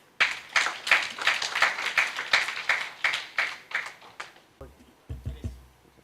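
A small conference audience at a MadTech summit in Singapore claps for the next speakers, a sparse, uneven patter of hands that thins out, followed by a few low knocks and thumps near the end.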